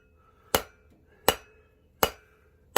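Four sharp, evenly spaced metallic strikes from a hammer on a copper bangle resting on an anvil, each blow crisp and ringing briefly against a quiet background.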